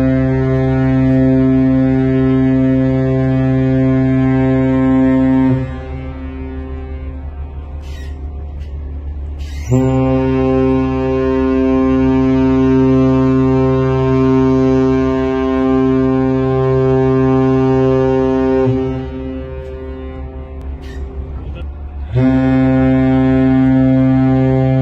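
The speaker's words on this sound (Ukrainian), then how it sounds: "Це не просто гудок океанського судна." An ocean ship's horn sounds in the port of Odesa, three long, deep, loud blasts separated by short pauses, with a steady low rumble filling the gaps.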